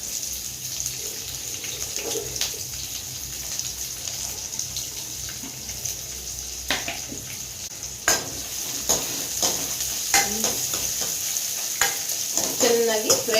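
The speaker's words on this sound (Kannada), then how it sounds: "ಬ್ರೌನ್ ಕಲರ್ ಬರುವವರೆಗೂ ನೀಟಾಗಿ ಫ್ರೈ ಮಾಡ್ಕೊತೀವಿ" Onions fry with cumin and mustard seeds in a pan, giving a continuous sizzle with stirring scrapes and clinks that grow busier toward the end, heard close and with no talking.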